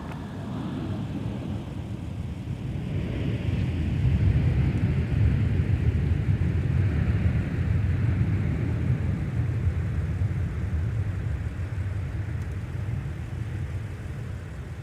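Jet airliner taking off at Minneapolis–St. Paul airport, a steady low rumbling roar that swells after a few seconds and holds at a moderate distance throughout, with no voices.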